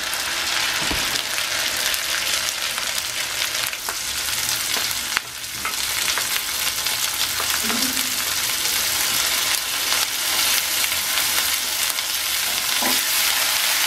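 A blended paste of tomato, onion and cashew fries over medium heat for a fish masala, a dense steady sizzle with occasional spoon clicks and scrapes, heard alone without speech.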